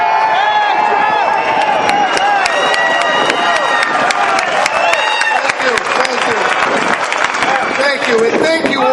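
A rally crowd at an anti in-state tuition protest cheers and applauds loudly and continuously, dense clapping mixed with shouts and whoops, with voices calling out over it throughout.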